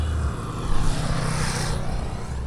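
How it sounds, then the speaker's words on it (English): Blown-up dirt bike engine with a melted spark plug running roughly, a steady loud mechanical drone with a coarse low throb that swells briefly, no talk. "I went to fire it up again, and it's making the death noises"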